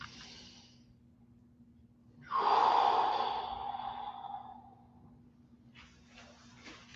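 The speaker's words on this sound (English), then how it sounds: "Dropping the head slowly and breathing in." A single deep breath drawn in slowly during a stretching exercise, a soft airy inhale rising then fading, close and alone in a quiet room.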